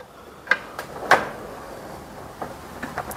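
A drawer on a tool cabinet is pulled open, giving a couple of sharp metallic clicks and knocks close by in an otherwise quiet room, with no talking.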